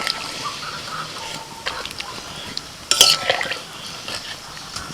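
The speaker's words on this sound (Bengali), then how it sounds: "একটু হালকা হাতে নাড়াচাড়া করে দেবো।" Hilsa fish in mustard and poppy-seed paste being stirred gently in a pan, with soft scraping and light clinks of a utensil against metal, quiet and intermittent, a brief louder clatter near the middle.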